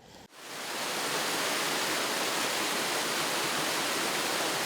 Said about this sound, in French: Là, nous sommes à la cascade